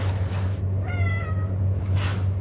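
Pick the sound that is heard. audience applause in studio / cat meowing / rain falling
cat meowing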